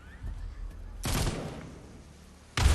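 Gunfire from The Walking Dead: Onslaught in virtual reality: a sharp loud burst of shots that decays slowly, then another abrupt blast at the end.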